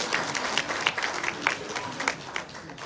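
Church audience clapping to welcome a preacher forward, a moderate, steady patter of many hands with a few sharper claps standing out near the front.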